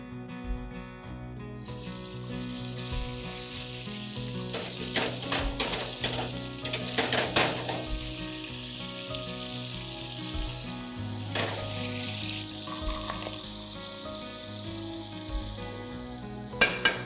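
Chicken carcass and bones fry in ghee for a Lahori-style chole chicken curry, giving a continuous sizzle with bursts of sharper crackling and a few clatters, under faint background music.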